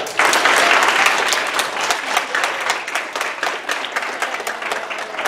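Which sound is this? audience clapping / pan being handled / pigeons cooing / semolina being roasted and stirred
audience clapping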